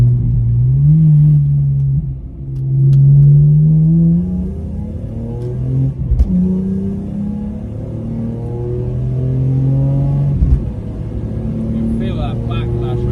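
A BMW E46 M3 engine revs and pulls hard through the gears while driving, its loud close drone rising and falling with gear changes, a voice talking over it.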